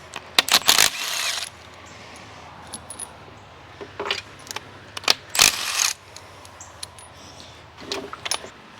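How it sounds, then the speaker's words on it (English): A ratchet clicks in short bursts while spark plugs are removed from an inline six engine, with close metallic rattles and clinks of the tool and plugs between spells of near-silence. "So we're going to take our spark plugs out"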